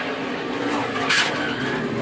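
Onboard a NASCAR race car spinning out during a 2014 race, a loud continuous engine and road roar with a brief rising tire-scrub swell midway, close and filling the whole moment.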